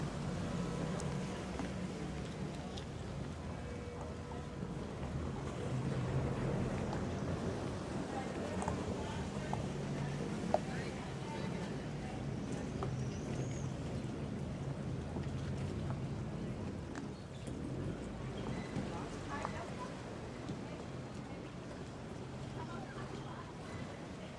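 Outdoor street ambience beside a canal in Denmark: a steady broad wash of city noise with a low tourist-boat engine rumble, distant voices and occasional faint clatter throughout.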